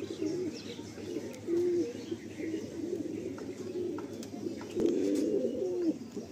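Madrasi pigeons coo in a loft, several low rolling calls close by, with light chirps and rustling around them.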